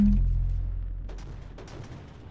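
Artillery firing in a real-time strategy game with naval units: a heavy low boom opens, then rolls off into a decaying rumble with faint crackles trailing behind.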